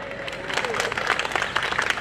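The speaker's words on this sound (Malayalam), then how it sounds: "ഒരു കയ്യടി." A crowd at a cultural gathering breaks into applause, a dense patter of many hands clapping that swells after a brief voice, carrying on steadily at moderate loudness.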